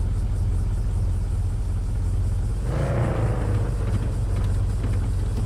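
A car engine runs loudly and steadily in the horror video game The Radio Station, a deep constant rumble that briefly swells as if revving a few seconds in, with no one speaking.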